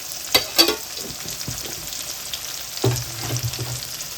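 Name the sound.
chillies and turmeric frying in a pan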